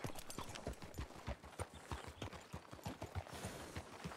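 Horse hooves clip-clopping in the Western roleplay game RedM, a quick, steady rhythm of close, distinct hoof strikes throughout, with no talk over them.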